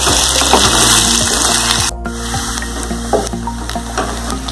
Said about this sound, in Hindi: प्याज को गुलाबी होने तक भूनेंगे।